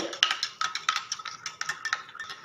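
Turmeric and palm jaggery drink being stirred in a vessel, a spoon scraping and clinking against the sides in quick repeated strokes, close and fairly quiet, with no talk.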